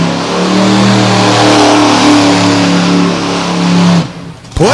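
Loud, close engine roar of a Renegade monster truck spinning a donut at a freestyle event in Gilbert, Pennsylvania, holding a high rev for about four seconds before the throttle drops and revs briefly again.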